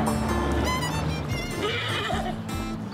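A horse pulling a village cart whinnies in a shaky, laughing neigh that rises and falls over about three seconds, loud and close, with hoof clops and ambient noise behind.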